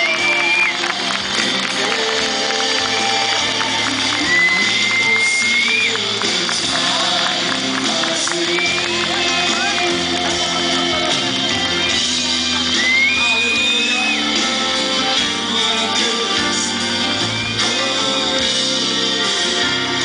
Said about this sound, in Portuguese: Uma salva de palmas para a Escola Estadual São Geraldo!